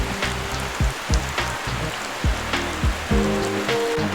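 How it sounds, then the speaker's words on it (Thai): Rain falling on a farm garden in Thailand, a steady patter of drops mixed with a low rhythmic pulsing hum and occasional louder splashes, fairly close and without any talking. "เห็นบรรยากาศของ ฝน ตกที่โค้งหนองนาด้วยนะครับ"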